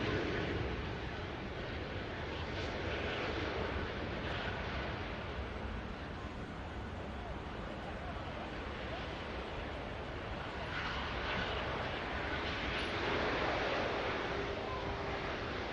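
An Air Transat Airbus A330 arriving from Toronto roars steadily at Manchester Airport, a broad sustained jet rumble and wind-like hiss with no voices.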